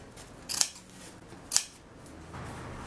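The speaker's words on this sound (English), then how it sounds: "just make some snips like this" Scissors snipping through leggings fabric, two crisp separate cuts about a second apart, close and clear over quiet room tone, with a soft rustle of cloth afterward.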